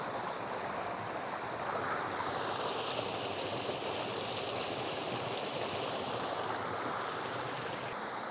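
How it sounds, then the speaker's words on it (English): A small brook in the Peak District, its water carrying a brown tinge, babbles and rushes in a steady, soft wash of flowing water, close and continuous with no voices. "That's a nice little stream"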